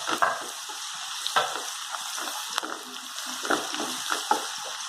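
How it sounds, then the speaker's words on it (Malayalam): Onions with chopped red and green chillies fry in hot oil, a close, steady sizzle broken by periodic stirring scrapes and clinks of the spoon against the pan. "ഉള്ളി ഒന്ന് ചുവപ്പ് കളറിൽ മൂക്കട്ടെ."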